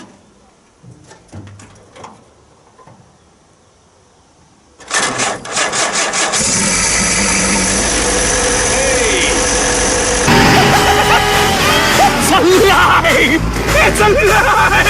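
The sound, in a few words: WW2 jeep engine started and idling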